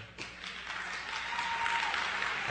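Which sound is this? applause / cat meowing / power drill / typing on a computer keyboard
applause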